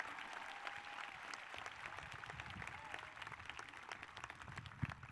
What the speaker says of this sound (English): Let's give them a round of applause for the fact that we're here tonight